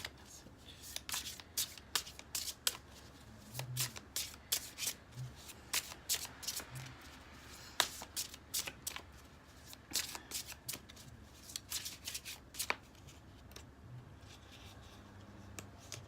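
Slippery tarot cards are shuffled by hand in a quiet room, giving a run of soft, rapid riffling flicks and snaps in irregular bursts, close and faint, with occasional low voice sounds underneath.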